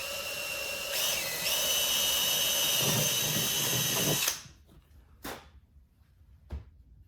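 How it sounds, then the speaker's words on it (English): A power drill whines loudly, boring a screw hole in a motorcycle's bottom panel while fitting an audio and CarPlay unit, then cuts off abruptly into quiet with a couple of faint knocks. "We can go ahead and drill out for our other screw on the bottom."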